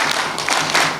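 An audience at a business seminar performs a rhythmic spirit clap, a quick burst of many hands clapping together in a short patterned cluster, loud and close.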